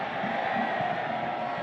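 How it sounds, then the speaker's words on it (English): Crowd cheering at a Suriname versus Canada football match, a broad steady roar from the stands that sounds distant and continuous. "Big cheers from the crowd."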